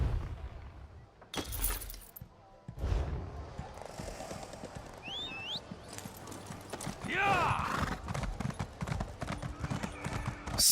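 Horse hooves clip-clop in The Elder Scrolls Online, an irregular trotting rhythm mixed with game music, swooshing effects and a voice talking over it.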